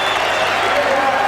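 Rugby stadium crowd at a 1990 New Zealand versus Great Britain match roars and claps after a penalty goal kick, a broad sustained cheer with a commentator talking over it.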